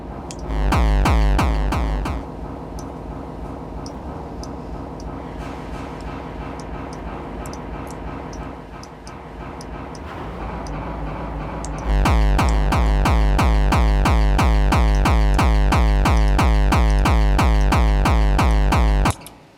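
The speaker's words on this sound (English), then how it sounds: "So it's really nice to use a reverb on these sort of kicks." Booming electronic kick drums pound in a steady, fast rhythm, loud and close, with a lingering reverberant tail and a brief softer passage midway.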